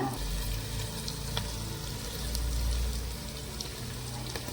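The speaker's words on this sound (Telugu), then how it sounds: "ఒక 2 నిమిషాలు ఉప్పు కారం ఏం వేయకుండా మూత పెట్టి సిమ్లో మగ్గనిద్దామండి ఆలుగడ్డ" Potatoes cooking under a lid on low heat in a pan for a bottle gourd curry, giving a steady soft sizzle and bubbling throughout, close and even, with no talk.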